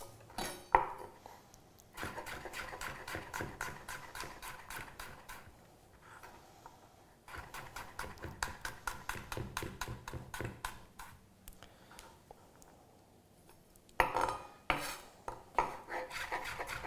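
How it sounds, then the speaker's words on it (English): A knife chopping a garlic clove finely on a board, in quick, rhythmic bursts of close taps that pause briefly and then resume, with a few louder knocks near the end. "I'm going to finely chop this clove of garlic"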